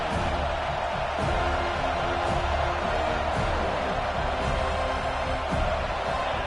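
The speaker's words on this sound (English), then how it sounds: "this big crowd doing everything possible to inspire this defense down here near the goal line" A big stadium crowd at an LSU football game roars and cheers near the goal line, a dense continuous wall of noise with rhythmic swells and claps, heard from within the stands.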